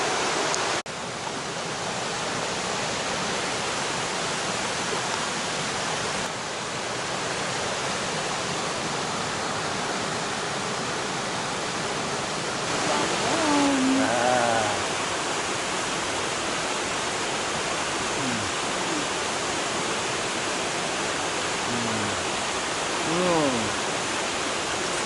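A mountain stream beside a campsite in the Smoky Mountains rushes in a steady, dense wash of water noise that stays constant throughout, with faint chirps rising over it now and then.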